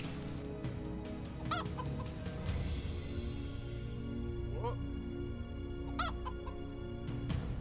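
Chickens cluck repeatedly in a farm-themed multiplayer video game, the sharp bird calls recurring over a dense, steady game soundscape, with players talking at times.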